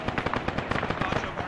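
Heavy machine gun firing in the ArmA 3 military shooter game, a rapid string of sharp, evenly spaced bursts at moderate distance, with voices talking faintly over the gunfire.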